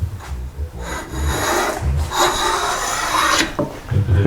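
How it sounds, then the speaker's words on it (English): A handmade hand scraper works along curved wood molding on a Chippendale slant front desk, producing close, loud rasping strokes in a few long passes broken by short pauses, with no speech. "I was doing some scraping on it as well to kind of smooth it over"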